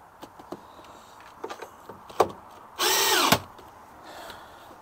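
A cordless Makita power drill runs in one short whirring burst of about half a second, close and fairly loud, after scattered clicks and knocks of work on a VW Transporter T5 wing mirror.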